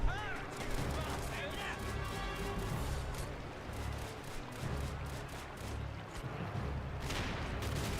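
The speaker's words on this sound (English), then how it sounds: "Katusha rockets shooting at middle." Katyusha rocket fire in a Robz mod video game match, amid a dense, continuous battle din of rapid gunfire and rumbling blasts, loud and sustained throughout.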